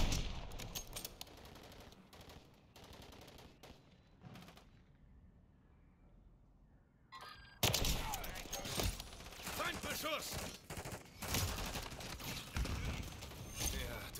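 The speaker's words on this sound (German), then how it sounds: "Ich werde hier beschossen." Gunfire in Call of Duty: Modern Warfare 3: a few scattered shots over a quiet stretch, then loud, dense bursts of rapid automatic fire and impacts that continue to the end, with a player talking over the action.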